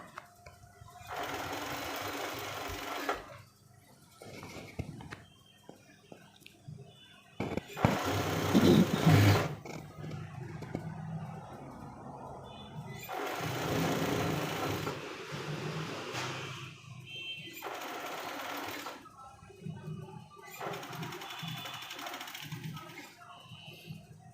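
Tailor's sewing machine stitching the sleeve of a coat, running in several bursts of a few seconds each with quiet pauses between them.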